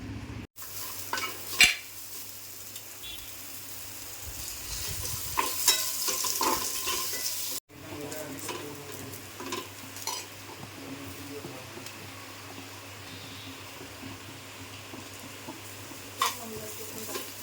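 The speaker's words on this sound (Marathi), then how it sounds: "हे लवंग आहे जावेत्री आहे आणि दालचिनी आणि थोडासा खसखस एवढं आता भाजून एकत्र भाजून घेणार सगळं" Cloves, mace, cinnamon and poppy seeds dry roasting in a pan, with scraping stirs and occasional clinks of a utensil against the metal over a low, steady background, with two brief drops to near silence.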